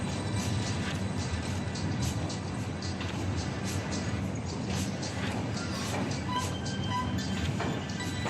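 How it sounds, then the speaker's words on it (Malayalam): A steady, continuous rumble of a train rolling slowly just before Vijayawada railway station, with a dense low drone and faint rattling clatter throughout. "ട്രെയിൻ ഇങ്ങനെ പതുക്കെ പതുക്കെ പോയിക്കൊണ്ടിരിക്കുന്നത്"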